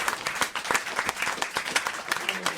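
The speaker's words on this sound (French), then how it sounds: "Applaudissements." A studio audience at a French television show breaks into dense, sustained applause with many hands clapping at once, loud and close throughout.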